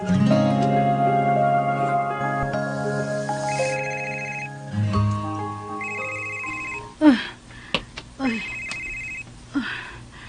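Phone ringing with an incoming call, its short repeated ringtone bursts sounding over background music and other noises.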